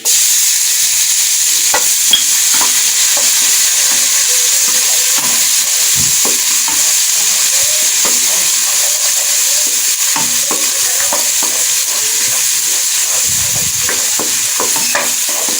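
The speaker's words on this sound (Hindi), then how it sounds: "तो 2-3 मिनट तक लहसुन अदरक का पेस्ट भूनेंगे" Garlic-ginger paste sizzling and frying in a hot pan, a steady crackling hiss with occasional stirring scrapes, close and fairly loud, no talking.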